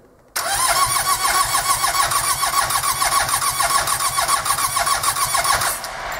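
A freshly rebuilt car engine on a pallet, not yet installed, cranks over steadily for several seconds with a rapid rhythmic churning, close and loud, then slows near the end without catching.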